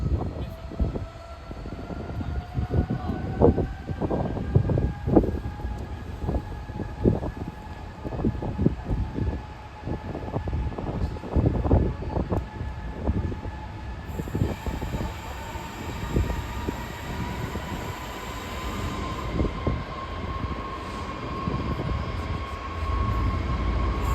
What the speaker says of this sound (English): Next train to pass through is a class 66 from Grangemouth to Daventry.